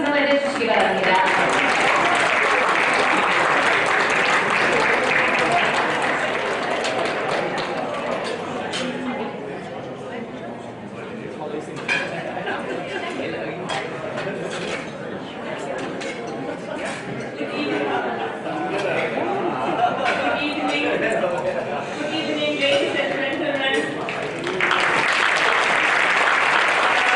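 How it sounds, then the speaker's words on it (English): Sustained audience applause with crowd chatter fills a charity gala dinner hall as Dr. Ulrike is welcomed, steady and broad throughout with a brief dip midway. "So please join me in welcoming Dr. Ulli케박사. 여러분들 따뜻한 환영의 박수로 맞아주시기 바랍니다."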